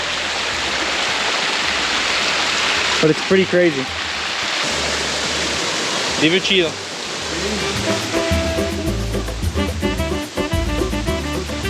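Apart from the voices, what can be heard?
rainwater running down steps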